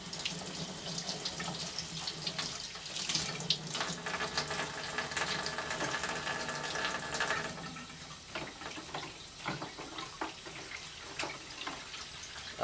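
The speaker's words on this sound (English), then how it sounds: "so this stuff I'm just kind of putting right down the drain" Water runs steadily into a kitchen sink drain as a cleaning solution is poured down it, a continuous close hiss and splash that thins into broken trickling and gurgles partway through.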